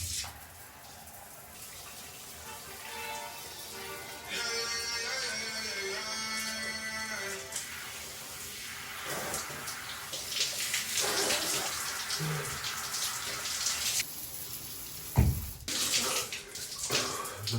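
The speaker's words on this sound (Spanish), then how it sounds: "ya toca ir para la ducha para terminar de despejar un poco" Shower water runs steadily in a bathroom before a cold shower in Finland, a continuous hiss with shifting splashes and a sharp knock near the end.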